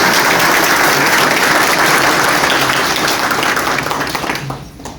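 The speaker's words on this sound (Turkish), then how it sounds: "Ona kocaman bir alkış istiyorum kıymetli hemşehrilerim" A crowd claps at a holiday greeting ceremony held by a federation of Erzurum associations in Bursa. The applause is loud and continuous, a thick wash of many hands that fades slightly near the end.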